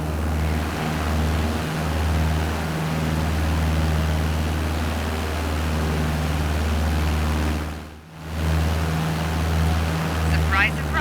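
Simulated aircraft engine in Microsoft Flight Simulator 2020 after all power is cut, a steady low drone with a strong hum that carries on, dips briefly near the end, then resumes.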